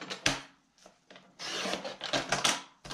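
Paper being trimmed for a DIY file folder gives quiet scraping and rubbing cuts in short separate strokes, several in a row with brief pauses, close by and without speech.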